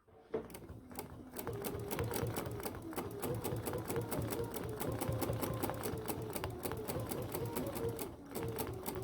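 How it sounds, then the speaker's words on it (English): A BERNINA sewing machine fitted with a stitch regulator stitches steadily at a slowed needle rate, a close, continuous rapid clatter that runs for several seconds and briefly dips near the end. "even though I'm moving my hands the same speed, you'll hear the needle go much slower"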